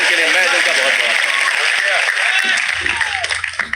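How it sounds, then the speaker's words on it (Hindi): A hall audience breaks into sustained, dense applause for poet Balkavi Bairagi at a Hindi poetry recital, steady and loud throughout before thinning slightly at the end, with voices mixed in. "इनके लिए एक बार जोरदार तालियां बजाइए"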